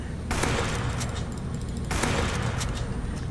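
Gunfire in the Roblox game Mad City, two dense bursts of rapid automatic shots, loud and close, one starting shortly in and another a second and a half later, blurring into a continuous roar.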